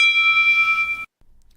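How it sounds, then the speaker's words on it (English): A single bright electronic chime rings for about a second, a clean sustained ding that cuts off abruptly into silence, used as a cue before recording translated dialogue in a NAATI CCL test. "A typical chime sounds like this."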